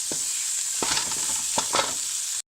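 Potato samosa filling with kasuri methi is sautéed in a pan, a bright continuous sizzle with a few scrapes and stirring knocks from a spoon, close and alone before cutting off abruptly.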